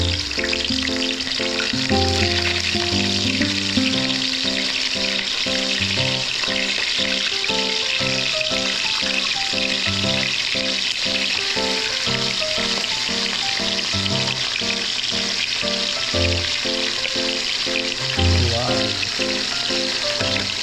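Torsilyo (barracuda) fish frying in hot cooking oil makes a continuous, dense crackling sizzle that holds steady the whole time, with no talk.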